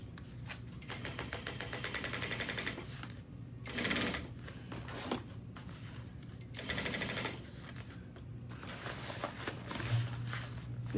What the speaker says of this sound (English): So back stitch, 1/4 inch seam allowance to attach this.